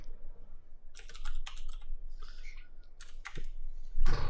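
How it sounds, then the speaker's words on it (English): Typing on a computer keyboard during a gaming podcast, a few quick irregular clusters of clicky keystrokes heard close and clear over a faint low hum, without any talk. "I can hear you typing"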